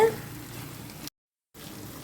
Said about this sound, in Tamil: அடிப்பிடிக்காமல் நல்லா கிளறி கொடுக்கணுங்க.